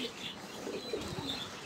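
Pigeons cooing softly at a rooftop loft, a few low murmuring coos over a steady ambient background, fairly faint with no talking.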